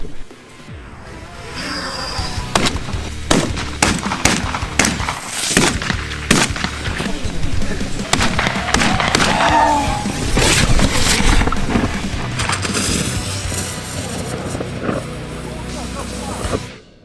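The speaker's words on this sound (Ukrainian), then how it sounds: "Сьогодні ми стріляємо більш крупними номерами дробі." Loud shotgun blasts firing large buckshot crack out one after another at uneven intervals, sharp and close, over outdoor background noise and some talk.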